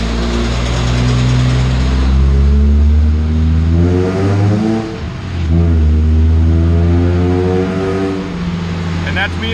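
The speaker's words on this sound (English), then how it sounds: "So now the flywheel is spinning when I'm driving on the dyno." A car engine revs loud and continuous on a homemade chassis dyno with a spinning flywheel, pitch climbing and falling through repeated throttle pulls and gear changes, with a brief dip in the middle.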